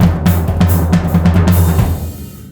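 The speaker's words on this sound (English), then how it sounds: "Because I'm adding accents in and kick drum and hi-hat" A drum kit plays a sticking pattern with accents on the snare, backed by kick drum and hi-hat, in a loud, close, steady burst of strokes.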